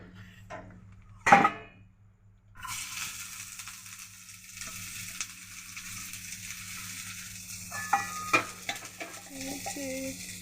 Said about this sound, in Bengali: তেলটা মনে হয় চাটু গরম হয়ে গেছে সসপ্যান গরম হয়ে গেছে পেঁয়াজটা দিয়ে দিন